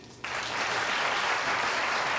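A studio audience at a 1977 television talk show breaks into sustained applause, starting abruptly and swelling into a dense, steady wash of clapping that carries on without any talking.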